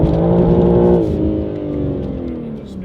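A BMW G80 M3 pulls away hard in a mall parking lot, its engine note rising loud and close, then dropping as it shifts and climbs again with a whirring tone, briefly spinning its tires.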